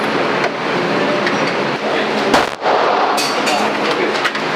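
Loud AK rifle gunfire at an outdoor shooting range in Los Angeles, sharp close shots standing out in a noisy, broadband scene, with a distinct crack near the middle and more bursts toward the end.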